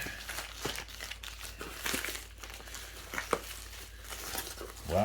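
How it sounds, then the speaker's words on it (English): Paper crinkling and tearing as a standard envelope is opened to get at a box inside, close and fairly quiet, with irregular rustles and crunches and no talk. "So there's a box inside the standard envelope. I'll get this opened up."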